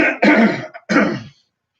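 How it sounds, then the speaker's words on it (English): Two harsh, close coughs in quick succession, the second following a brief pause, then silence. "go ahead and cough on me and get that out"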